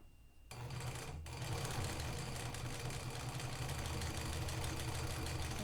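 A sewing machine runs steadily while stitching a fisheye dart in fabric, a close, even mechanical whir that starts after a brief pause and continues without breaks.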